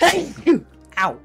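A person sneezes in quick, close, loud bursts, mixed with short exclamations.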